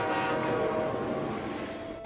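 Cartoon train rolling along at speed: a steady, dense rumble with a sustained whistle-like tone running through it, continuous and fairly loud throughout, with no voices.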